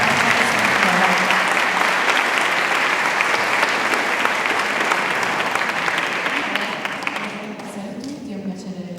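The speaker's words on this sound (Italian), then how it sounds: "Un applauso anche al coro parrocchiale San Nicola." Sustained applause fills a church after the San Nicola parish choir sings at a traditional Sardinian costume parade in Ottana, a dense crowd clapping steadily before thinning and fading near the end, with voices murmuring underneath.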